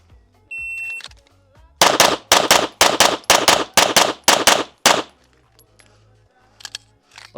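Pistol fire at USPSA practice on an outdoor range: a rapid string of about ten sharp, loud shots in quick, fairly even succession, preceded and followed by quiet range ambience.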